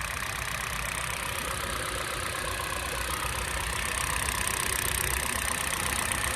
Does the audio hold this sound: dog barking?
no